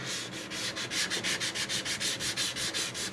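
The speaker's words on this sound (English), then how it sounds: "This is sort of end grained and curved at the same time, but it sands up very nicely." Sandpaper rubs rhythmically over curved end-grain wood on a guitar body under construction, a loud, close, even back-and-forth scraping with about a dozen strokes and no talk.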